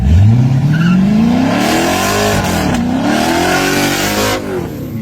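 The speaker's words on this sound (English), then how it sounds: "let's hear the V8" A loud V8 engine revs up, its pitch climbing steadily, dipping briefly, then rising again before easing off near the end. No talking.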